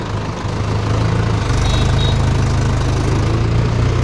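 Mahindra 575 DI XP Plus tractor diesel engine running steadily up close, a loud, continuous low throbbing idle with a knocking pulse throughout and no talk.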